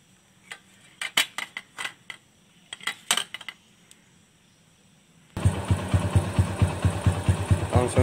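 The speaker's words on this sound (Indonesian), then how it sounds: "langsung saja mesinnya udah hidup." A custom motorcycle engine starts after a few seconds of scattered clicks and taps, then idles steadily and fairly close with a rapid, even low putter.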